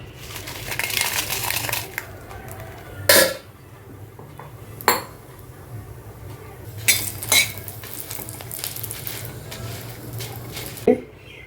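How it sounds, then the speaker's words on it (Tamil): Dry red chillies roast in a pan while being stirred for a Tirunelveli-style sesame powder: a low frying hiss runs throughout, broken by about five sharp spoon-on-pan scrapes and clanks spread irregularly across the stretch. "இப்போ வரமிளகாய் வறுத்து எடுத்துடலாம்"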